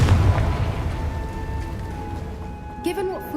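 A Confringo explosive fire spell is cast in Hogwarts Legacy, landing as a deep, rumbling blast at the start that slowly fades, with a brief bright tonal flourish near the end.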